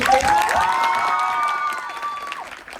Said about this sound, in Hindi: एक बार तालियां बजा दो सर के लिए